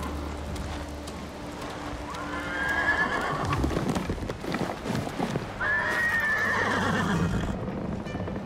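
A horse in the video game Ghost of Tsushima whinnies twice, loud and close, the calls a few seconds apart over a background of shuffling hoofbeats.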